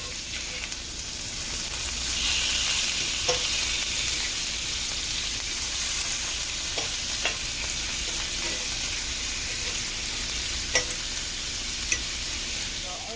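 A buttered steak sizzles steadily in a hot pan, a dense close frying hiss that swells slightly as it is flipped, with a few sharp utensil clicks scattered over the continuous crackle.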